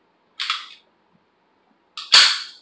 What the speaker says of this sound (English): striker fired gun, I pull the trigger.